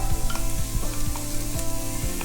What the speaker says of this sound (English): And you're going to let it saute.